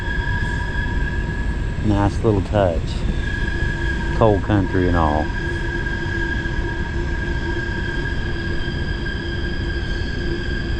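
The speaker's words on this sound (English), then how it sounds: "That train up there too." A train passes nearby along the Tug Fork river, a steady rumbling roll with sharp bursts of squealing wheels and a long humming drone, while someone talks briefly over it.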